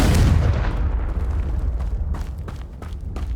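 A Confringo fire spell explodes in Hogwarts Legacy, a loud booming blast that hits at once and rolls off into a rumbling crackle over a few seconds, with no voice over it.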